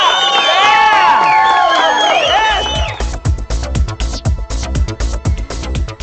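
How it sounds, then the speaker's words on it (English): A bar crowd erupts in loud cheering and whoops after a magic trick; the first half is shouting voices, then claps and cheers carry on unevenly, close and boisterous. "The crowd oftentimes responds by bursting into spontaneous, uproarious applause"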